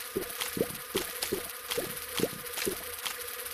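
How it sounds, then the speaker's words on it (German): Buzzing of a fly enemy in The Binding of Isaac: Wrath of the Lamb video game, a steady droning hum broken by a regular series of short, pulsing accents, fairly faint and without any voices. "Oh, eine Fliege."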